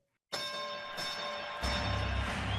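A single bell, used as a film-quiz sound cue, strikes suddenly after a moment of silence and rings with a bright, sustained metallic tone. A deep rumble comes in underneath partway through.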